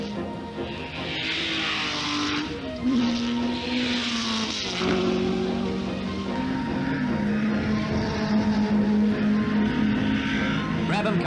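1961 racing cars, including a Cooper Maserati, race flat out at the New Zealand Grand Prix with loud, continuous engine roars that rise and fall in pitch as they pass near, while a commentator talks over them.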